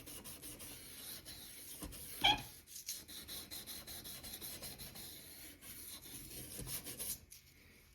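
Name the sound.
sanding model train track rails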